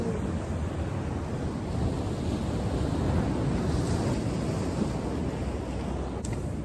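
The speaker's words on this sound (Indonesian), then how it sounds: "Lagipun ombak boyo besar betul loh." Big ocean waves surge at a rocky fishing spot in a continuous, loud, broad wash of surf, with wind buffeting the microphone and no talking.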